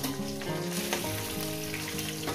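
Katla fish head frying in hot oil, a dense continuous sizzle close by, with a faint tonal hum running underneath.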